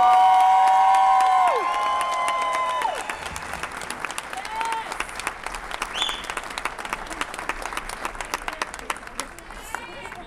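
An audience breaks into applause and cheering for a performer being introduced, starting loud and full, then settling into steady clapping with scattered shouts as music-like tones fade out.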